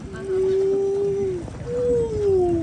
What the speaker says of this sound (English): That's a humpback sound.